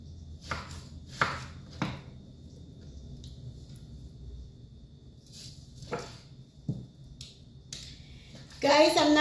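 A knife chops through chicken on a cutting board, slicing it into thin pieces in a home kitchen, making a few sharp, separate cuts spaced several seconds apart with a louder clatter at the end.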